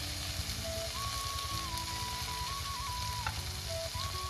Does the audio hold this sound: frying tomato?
yes